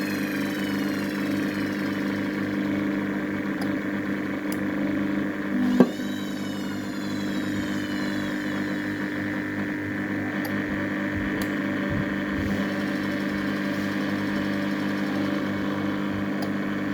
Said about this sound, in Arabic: زي ما حضراتكم شايفين كده الموتور دخل معانا في مرحلة العصر.